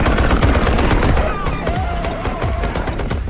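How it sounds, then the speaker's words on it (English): Heavy machine gun fire from a film scene tears out in rapid, loud bursts of dense overlapping shots, continuous and close throughout, with no voices. "These creatures, which had shrugged off bullets before, were finally torn apart under heavy machine gun fire."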